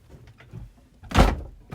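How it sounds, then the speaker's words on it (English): A door swung shut indoors lands as a single loud, close thunk with a short rattle, preceded by faint rustling and followed by a softer knock. "That was me swinging my door shut."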